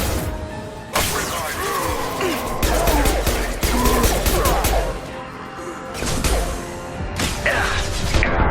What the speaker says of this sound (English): Moving fast! Taking heavy fire!